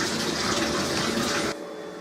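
A tap runs steadily into a basin being filled with hot and cold water for soaking textile motorcycle jackets, a full rushing gush that suddenly drops to a thinner, quieter stream near the end.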